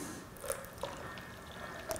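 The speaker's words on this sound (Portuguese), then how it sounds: "Agora pomos aqui um bocadinho de água." Water poured into a pot of cooking beans for a Portuguese bean stew, a faint liquid trickle with a few distinct drips and splashes, quiet and without talk.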